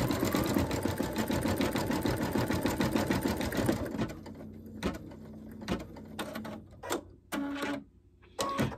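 A machine embroidery run stitching fine free-standing lace details above the heel of a stocking ornament: rapid, steady needle chatter for about four seconds, then stopping into scattered clicks, thumps and brief mechanical whirs.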